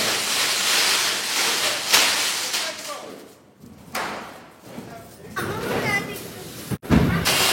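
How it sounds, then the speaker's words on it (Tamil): A flowerpot firework, a pusvanam, lit outdoors during a small celebration, hissing and crackling in a steady broadband rush that cuts out briefly a couple of times, with voices talking throughout. "இந்த புஸ்வானம் நான் வந்து வெடிக்கிறது பார்த்தீங்களா"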